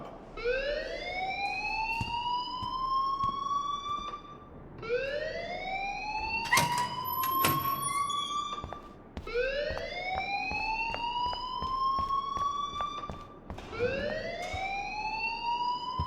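School fire alarm in the video game Life Is Strange, a loud rising electronic whoop repeating about every four seconds, with a brief ringing bell burst partway through and no voices.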